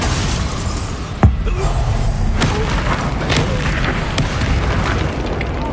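A Bombarda explosion spell in the Hogwarts Legacy video game, with one sharp boom followed by a rumbling game soundscape and a few more faint impacts, no speech.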